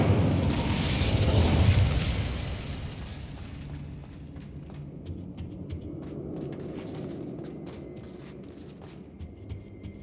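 A fire spell cast in the video game Hogwarts Legacy bursts with a loud whooshing roar of flame that fades into a lower crackling rumble, followed by scattered small clicks and ticks.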